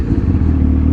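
A Yamaha R1 motorcycle engine runs in a loud, close, steady low rumble for about a second.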